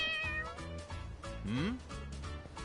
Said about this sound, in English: Oh, hey, sweet little kitty.